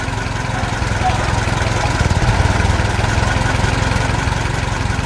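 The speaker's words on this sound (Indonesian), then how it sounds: "lihat traktor merah itu, dia sedang sibuk bekerja dengan alat penggali di belakangnya." An animated red tractor working with a digger attachment drones as a steady, loud engine rumble throughout, with a faint voice underneath.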